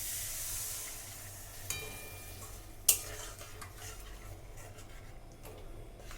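A pan of Bengali fish curry with poppy seed paste and coconut milk simmers with a faint sizzle, broken by a soft scrape and a sharper utensil clink against the pan, no voices.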